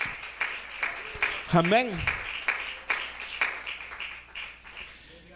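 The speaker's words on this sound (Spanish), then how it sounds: "dale un aplauso al Señor" A church congregation claps in scattered bursts beneath a person speaking, with one voice rising briefly above the applause before the clapping carries on unevenly.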